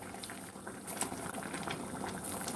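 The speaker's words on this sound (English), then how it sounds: "I'm gonna simmer it about 4 more minutes" Stewed tomatoes simmer in a pot with a steady, soft bubbling that continues quietly and evenly throughout.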